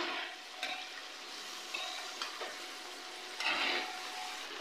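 Chicken wings with cumin fry in a pan until light brown, giving a soft, steady sizzle with a few louder bursts as the pieces are stirred and turned, fairly faint and close with no talking.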